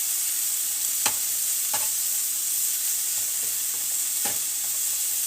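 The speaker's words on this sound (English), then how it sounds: "We're going to let those scallions get a little cooked through" Scallions cook in a pan with a steady, even sizzle and crackle, close and constant, with a few sharp pops or taps of the utensil scattered through and no talking.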